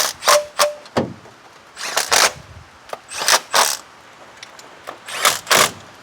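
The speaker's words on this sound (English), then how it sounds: "we'll use our 10mm to tighten these" Bursts of a ratcheting 10mm wrench snugging valve cover bolts on a Honda CR-V B-series engine, several short runs separated by pauses, close and fairly loud.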